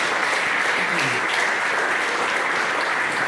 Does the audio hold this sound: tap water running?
no